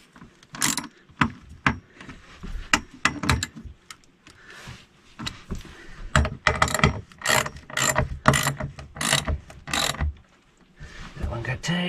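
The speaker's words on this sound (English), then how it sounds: "you can tighten these up without having a wrench down below" Ratcheting clicks from a wrench tightening nuts and bolts during RV work, coming in repeated short bursts of rapid pawl clicks with brief pauses, close and fairly loud.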